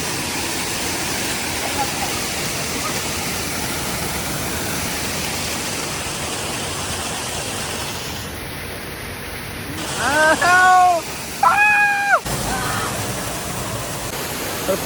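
A small hidden waterfall in Palghar gives a constant, loud rushing roar throughout, with brief chirping bird calls near the end.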